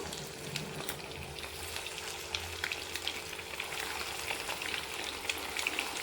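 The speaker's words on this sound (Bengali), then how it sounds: "তেলের মধ্যে দিয়ে এবার আমি লাল লাল করে ভেজে নেব" Egg balls for egg Manchurian fry in hot oil with a continuous sizzle and scattered small crackles and pops, steady and close.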